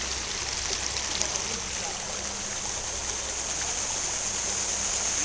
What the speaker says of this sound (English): Here's the brook, the Big Flat Brook we're still in Sussex County, New Jersey.